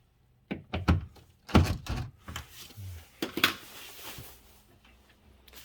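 Several soft wooden thunks and knocks of a door being moved and shut on a newly adjusted 3D hinge, closing without squeaks, with faint rustling between them, fairly quiet and close.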